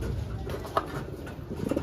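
Soft pigeon coos murmur through a steady background of ambient noise, low and continuous, with no talking.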